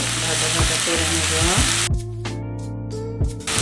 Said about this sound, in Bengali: এরপরে মশলাগুলো এর সাথে একটু সুন্দর করে ভাজা ভাজা করে নেব